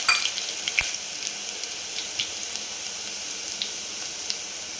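Crushed garlic frying in hot oil with bloomed cumin seeds, a steady close sizzle with scattered small pops and spits, no voices.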